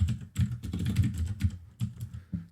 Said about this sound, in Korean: 기계식 키보드인데다가 바로 옆에 마이크가 있어서요.